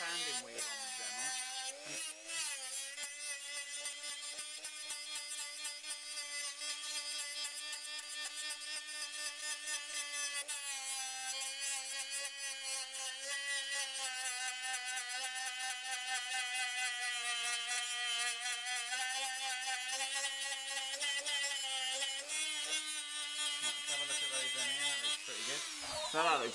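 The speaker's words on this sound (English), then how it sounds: "So we've just got the little sanding wheel on the dremel." A Dremel with a small sanding wheel grinds on a Range Rover L322 rear light, a continuous high-pitched whine that holds steady and close for the whole stretch, with brief faint voices underneath.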